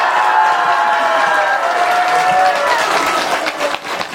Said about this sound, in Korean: 이 행복을 주신 우리 강호수님께 와 하는 함성과 큰 박수 다시 한번 부탁드리겠습니다.